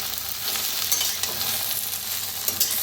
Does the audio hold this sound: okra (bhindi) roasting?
yes